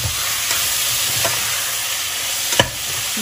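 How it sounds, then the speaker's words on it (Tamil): Tomatoes sautéing in hot oil in a pan for prawn biryani, a steady continuous sizzle with a few brief stirring clinks, up close with no talking. "இப்போது தக்காளி நல்லா வதங்கிட்டுருக்கு"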